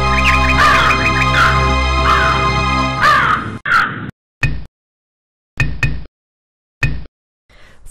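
Cartoon crow in an animated fable of a thirsty crow and a water pitcher, cawing in loud harsh calls over music for the first few seconds, then a few short separate caws with silent gaps.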